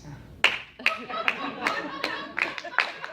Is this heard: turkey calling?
no